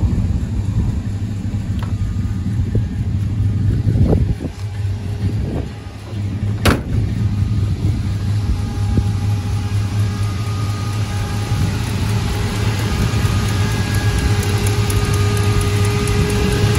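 A 1956 Mercury Montclair custom idles steadily with a slight exhaust leak at the header collector, a close, continuous engine rumble with a few brief sharper puffs and ticks early on.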